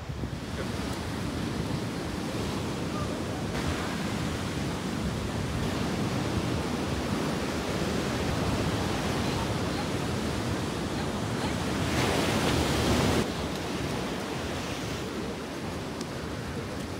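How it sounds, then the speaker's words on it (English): Ocean surf breaking on a beach, a steady broad wash of rolling waves with a louder surge near the end, close and continuous with no talking. "Oh, it's a good beach."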